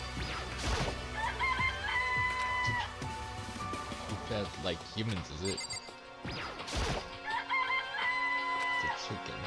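Chicken clucking and crowing from the video game Danganronpa: Trigger Happy Havoc, repeated rooster-like calls over game music and effects, with people talking throughout.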